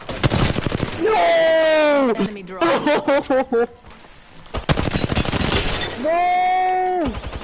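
Gunfire in a video game: rapid bursts of shots and shattering impacts, loud and close, while a person shouts in alarm over the game's tonal sound effects.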